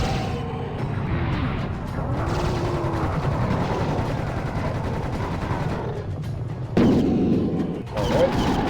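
Plasma thrower firing in Serious Sam Revolution, a sustained roaring, crackling stream of shots with booming impacts, loud and continuous, ending in a sudden louder burst.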